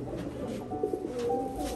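Giribaj tournament pigeons coo softly and repeatedly in a low, throaty burble, close by, with a faint steady background hum and no speech.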